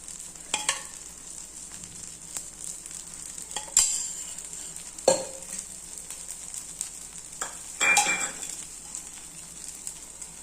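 Millet mini paniyaram fry in oil in a pan, a soft, steady sizzle with a few faint clinks and scrapes over it, heard without talk.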